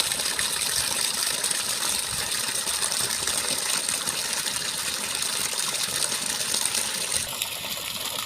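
Water gushing steadily from the outlet of a three-phase AC motor pump: a loud, continuous, close rushing splash that holds unbroken throughout, with no voices.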